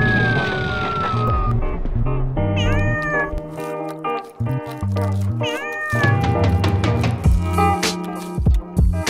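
Several cats meow and caterwaul in a drawn-out, insistent chorus, loud and close, with wavering cries overlapping across the whole stretch and no talking.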